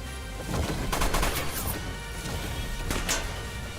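Enemy gunfire in the Front Mission tactics game, a dense run of rapid cracking shots and impacts that stays loud and busy throughout, with a couple of sharper bursts standing out near the middle and end.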